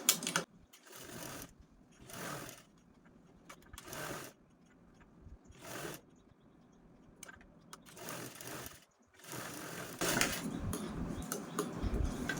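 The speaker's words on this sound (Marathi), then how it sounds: "आता ह्या साईडने पण पूर्ण झिप ओपन करू आणि दापटीप देऊन घेऊ" Sewing machine topstitching along an opened zipper on a small piece of fabric, running in short bursts of rapid needle chatter with pauses between, close and moderately loud, with no talk.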